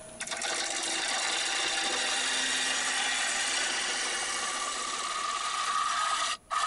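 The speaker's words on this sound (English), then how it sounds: "it doesn't take very long to hollow this out with a nice sharp bowl gouge and a speed of around 1300 to 1600 RPM" A sharp bowl gouge hollows a wooden bowl on a lathe spinning at around 1300 to 1600 RPM, giving a steady, close, continuous scraping hiss that runs unbroken and cuts off briefly near the end.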